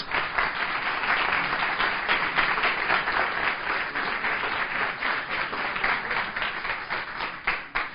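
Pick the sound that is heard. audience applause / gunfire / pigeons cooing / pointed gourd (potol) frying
audience applause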